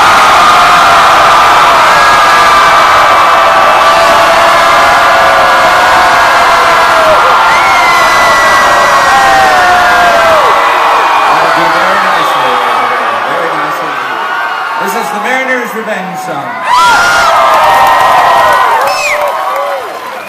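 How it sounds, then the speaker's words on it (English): A concert audience at the Boulder Theater screams, whoops and moans loudly on request during a show, a dense sustained roar of many voices that thins toward the end with scattered shouts. "some more screaming and moaning and things like that"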